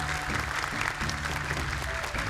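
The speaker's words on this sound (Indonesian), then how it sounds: "Tepuk tangan untuk Ibam Palembang." Audience applause at an Indonesian televised Quran memorization competition, a brief burst of dense steady clapping from a crowd, fairly close and even in level.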